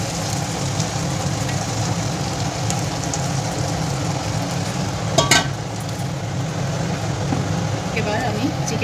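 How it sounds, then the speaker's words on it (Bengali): Marinated chicken sautéed with masala over a high flame, a dense, continuous sizzle with stirring scrapes and a brief clatter near the middle. "এবার আমি চিকেনটা হাই ফ্লেমে একটু ভালোভাবে কষিয়ে নেব মশলার সাথে"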